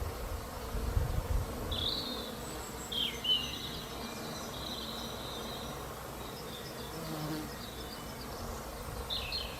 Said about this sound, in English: the bees are busy. I hope you can hear them.